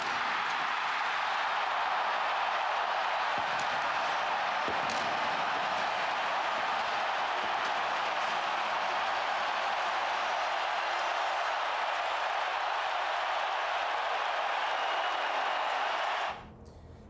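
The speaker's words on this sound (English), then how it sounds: "It's the type of win a hometown crowd really seems to like, and here there were horns blaring and people cheering" A hometown crowd in Vancouver celebrates a last-second Grey Cup-winning field goal with a dense, unbroken roar of cheering that holds steady for about sixteen seconds and then drops away abruptly.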